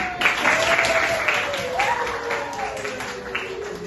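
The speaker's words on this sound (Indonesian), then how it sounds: "Tepuk tangan untuk kelas 81." A class of students applauding in a classroom, brief moderately loud clapping from the group with a teacher's voice heard over it.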